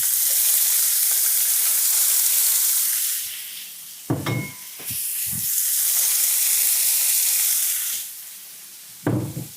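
Beef, peppers and onions sizzle and fry in a skillet for a cheesesteak sandwich, a steady loud hiss broken by a few brief stirring clatters, with no talking.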